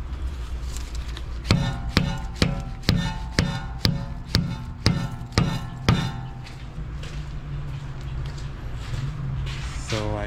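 A hammer knocks a CV axle back into place on a Nissan Rogue's right front wheel, about ten evenly spaced metallic blows at close range, then stopping.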